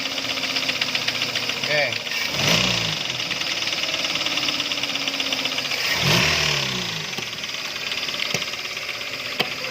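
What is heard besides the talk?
Toyota Avanza 3SZ engine knocking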